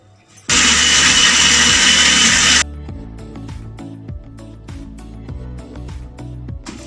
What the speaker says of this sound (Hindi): और अब इसको ब्लेंड करते हैं।